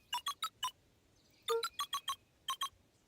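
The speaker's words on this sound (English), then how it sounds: "Luca cracked his knuckles and entered the letters into the keypad." Electronic keypad beeps from the video game Beacon Pines: three quick bursts of short tonal presses, four, then five, then three, each a bright clean chirp, close and alone without talk.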